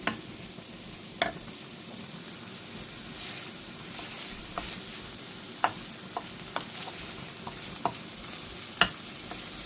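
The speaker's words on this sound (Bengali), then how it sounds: "এবার মরিচে মিক্স করে নেব অল্প সময়।" Chili is stirred into vegetables cooking in a pan, giving a soft steady sizzle broken by occasional sharp clicks of a utensil scraping the pan.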